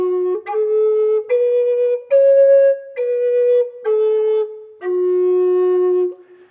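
Native American flute playing a slow run of about seven notes, each begun with a ka attack that is sharp but slightly softer, giving a small chirp at each onset; pure, breathy tones heard up close with no voices.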